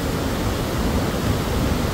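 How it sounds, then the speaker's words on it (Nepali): A mountain stream rushing in hilly countryside, a dense continuous roar of flowing water heard up close, loud and unbroken with no voices. "उसको मजाको खोला छ"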